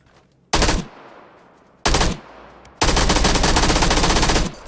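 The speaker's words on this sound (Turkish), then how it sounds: "Bunlar da zafer atışları." Celebratory victory gunfire in PUBG on the Erangel map after winning a match: three loud bursts of rapid automatic fire, the last one long and sustained, with no talking.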